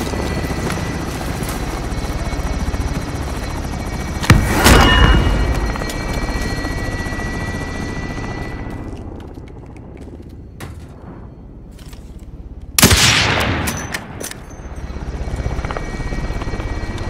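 A military helicopter in the video game Call of Duty Warzone hovers with a steady, loud rotor drone throughout, swelling in two sharp bursts as it passes or maneuvers.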